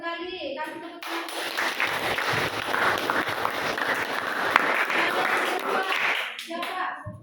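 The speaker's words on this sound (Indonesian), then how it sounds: "Kasih tepuk tangan." A classroom of students claps together after a biology lesson answer, a busy burst of hand claps lasting several seconds with children's voices mixed in, fading as a teacher speaks.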